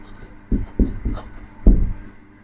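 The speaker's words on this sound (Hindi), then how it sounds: "फिर मैं लिखता हूं इसका जनरल फार्मूला" Marker or chalk strokes on a board as a chemical formula is written in a chemistry lesson, giving a handful of short, close scratchy taps in uneven rhythm with brief quiet gaps between them.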